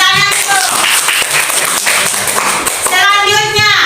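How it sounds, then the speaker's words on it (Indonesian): A room of children clapping, noisy and mixed with voices, the applause rising again toward the end. "Ya, tepuk tangan dulu."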